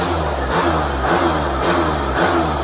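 A car engine at a bank ATM drive-thru revs hard and steadily, the throttle held down with repeated surges in pitch, loud and close with no one talking.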